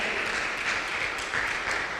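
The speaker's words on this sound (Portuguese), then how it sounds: "Queria te pedir para dar um forte aplauso para a equipe de som." Audience applause for a church sound team during a sermon, a dense, steady wash of clapping held at an even level throughout.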